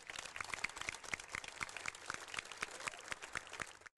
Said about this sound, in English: So if you could join me with a round of applause to thank them.